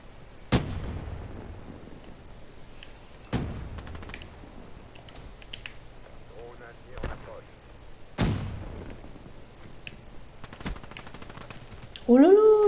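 Weevil submachine gun in Black Ops 3 fires in a few sharp, separate bursts spread across the clip. Game effects and faint background noise sit between the shots.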